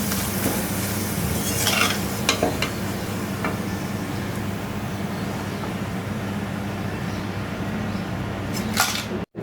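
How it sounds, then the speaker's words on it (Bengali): Thin papad sizzles in hot oil in a home kitchen, a steady close-up hiss with occasional sharp utensil clicks and taps against the pan, ending in a brief clatter. "পাতলা পাপড় তো দেওয়ার সাথে সাথে ভাজা হয়ে যায়"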